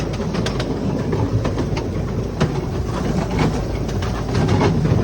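A passenger train rolls along the rails in Taiwan, a loud close rumble broken by sharp, repeated clicks and clacks from the wheels over the track, with no voices.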